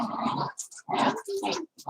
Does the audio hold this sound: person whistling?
no